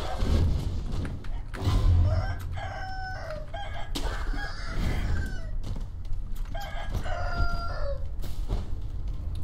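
A chicken in the video game Sekiro crows and clucks repeatedly over thuds and game ambience, loud and close, with several rising calls in succession.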